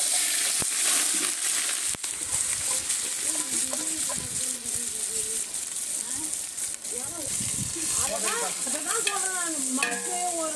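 Onions frying in ghee for a village-style dum biryani, giving a steady sizzle with stirring scrapes, close up, while people talk over it throughout.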